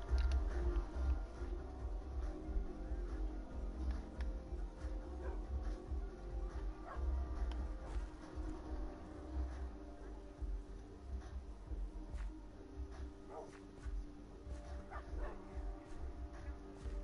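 A dog in the video game Minecraft barks and yips, giving repeated short bursts with some whimpers over a long stretch, fairly faint and mixed into game background noise.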